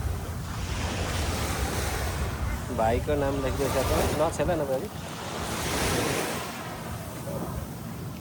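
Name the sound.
sea waves on the shore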